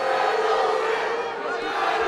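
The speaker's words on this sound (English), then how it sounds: "the crowd's starting to get behind Shipp" A crowd at a Caged Aggression cage fight roars steadily in support of fighter Michael Shipp, a sustained wash of cheering and yelling with a commentator's voice over it.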